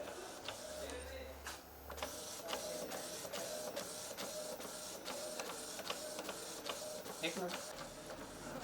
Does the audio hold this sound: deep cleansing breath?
no